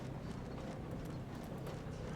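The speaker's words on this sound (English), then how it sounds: "Ah, the donkey!" Donkey hooves clip-clopping in the Dungeons 2 video game, a quick even patter of hoofbeats, faint and alone over a low background hum.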